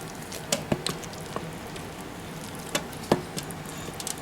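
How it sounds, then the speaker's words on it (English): Pasta and frozen meatballs being stirred in an Instant Pot, giving a few soft scraping and clinking spoon hits in short bursts over a low, steady background hiss. "Let's give it a quick stir."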